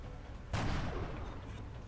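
A single sharp gunshot from XCOM: Enemy Unknown cracks out over a low background hum, followed by a brief decaying echo, moderately loud and unaccompanied by talk.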